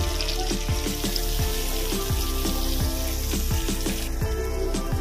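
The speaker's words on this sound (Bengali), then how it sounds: "আমি তেলের মধ্যে দেব গোটা জিরে ফোড়ন, দেব ঘষে রাখা পেঁয়াজ" Whole cumin seeds and grated onion sizzle steadily in hot oil in a pan, a close continuous crackling hiss with faint stirring and no voices.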